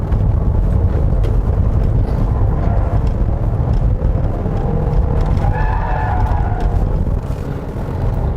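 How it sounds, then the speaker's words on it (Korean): A 2018 Ford Explorer with the 2.3 EcoBoost engine accelerates, a deep, low bass drone steady throughout, heard from inside the cabin with a heavy layer of wind noise and no talking. "이 가속할 때 엔진 소리는 좀 이렇게 베이스 톤으로 약간 낮게 깔리는 편인데"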